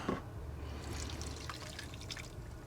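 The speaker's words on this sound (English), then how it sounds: "we can add the now bubbly activated yeast, water, and sugar mixture." Bubbly activated yeast, water and sugar mixture is poured into beignet dough inside a van, a faint, soft liquid trickle and a few small drips close by.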